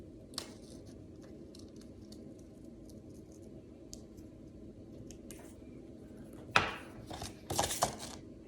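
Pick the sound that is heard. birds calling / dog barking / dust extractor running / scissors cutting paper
scissors cutting paper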